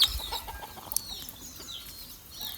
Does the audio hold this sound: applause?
no